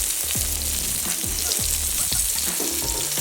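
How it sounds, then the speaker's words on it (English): An onion grilling beside smashed chicken burgers hisses with a steady, close sizzle, broken by a few low thumps and knocks from handling on the cooktop, without any talking. "What I decided to do was grill another onion so I can have an onion ring on top of my burger."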